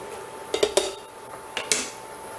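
A utensil stirs garlic in a cooking pan, making a few sharp metallic scrapes and clinks in two short clusters over a quiet background, with no talk.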